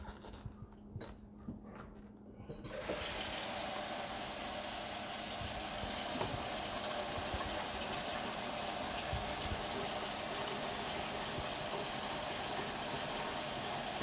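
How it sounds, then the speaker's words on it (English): Steady rush of tap water pouring into a kitchen sink with a newly installed garbage disposal, starting abruptly after a couple of seconds of quiet and continuing loud and even to the end. "Then I'm going to turn the water on and watch for, make sure I don't have any leaks."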